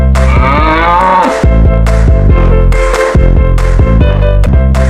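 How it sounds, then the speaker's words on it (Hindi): A yak lows in deep, drawn-out calls, loud and close, repeated over a steady pulsing beat with no talking. "Yak. Yak means yak।"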